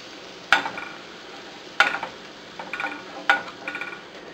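Garlic frying in a pan for pork and chicken adobo, stirred until light brown: a few distinct scraping, sizzling bursts recurring every second or so over a quiet sizzle, close and fairly clear.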